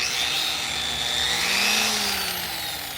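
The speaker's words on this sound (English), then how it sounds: "Keep it wet as I'm sanding" A power sander whirs steadily with a high, grinding hiss while wet sanding raw stone, its pitch wavering slightly as it works across the surface.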